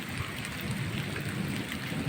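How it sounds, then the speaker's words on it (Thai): Dense, steady downpour of the first heavy rain after Songkran in Thailand, hissing across surfaces, a thick constant wash with a low rumble underneath. "วันนี้เป็นฝนแรกนะฮะ ที่ตกหนักสักหน่อยหลังสงกราน"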